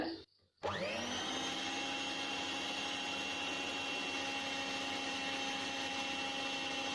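An electric beater whirs steadily through plum cake batter while caramel syrup is poured in. After a brief stop near the start, the motor runs again with a continuous, even, close-up drone.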